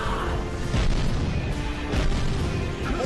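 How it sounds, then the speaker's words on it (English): Explosions in the Jak & Daxter video game, a run of rumbling booms and crashes layered over game noise, repeated heavy blasts with no talk over them. "Explosions!"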